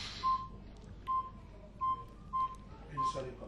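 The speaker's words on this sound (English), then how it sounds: "just a phone call coming through there" An incoming phone call sounds as five short, evenly spaced electronic beeps at one steady pitch, moderately loud over a quiet room with faint voices.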